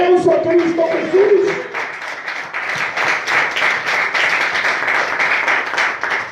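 Congregation applause at a Christian church service, a dense steady patter of many hands that rises after a brief raised voice and carries on loud to the end.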